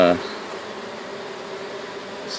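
Honeybees buzz in a steady, close hum as a beehive is opened for inspection, a continuous drone with a brief clunk at the start.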